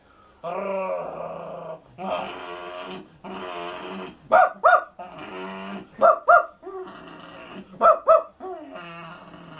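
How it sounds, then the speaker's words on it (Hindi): Dogs standing outside a house growl low and steadily, then let out three pairs of sharp, loud barks, each pair separated by more growling. "कुत्ते बिना बात पे किसी के घर में थोड़ी घुसते हैं। इसलिए वो बाहर खड़े रहे और गुर्राते रहे।"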